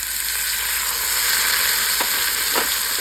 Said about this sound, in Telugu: కొద్దిగా వేగిన తర్వాత ఈ ముక్కలు వేసేసుకొని